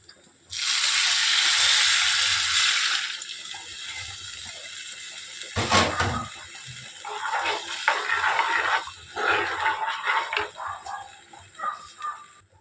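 Squeezed tamarind water is poured into a hot pan, first as a loud, rushing splash and hiss, then as a bubbling, spluttering sizzle that fades in bursts.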